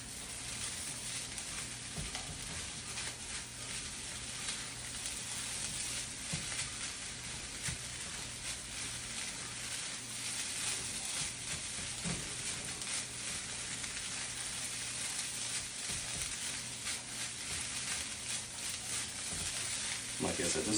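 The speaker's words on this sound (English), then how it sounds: "Start getting that onion stir fried." Onion and vegetables for fried rice stir-fry in a pan over high heat, a steady loud hiss of sizzling with occasional scrapes of stirring, continuous throughout.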